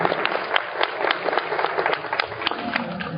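Seated devotees at a Swaminarayan religious discourse break into applause, a dense, fairly close round of clapping with sharp individual claps standing out, steady throughout.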